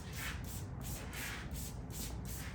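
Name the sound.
YS Park spray bottle spraying water on hair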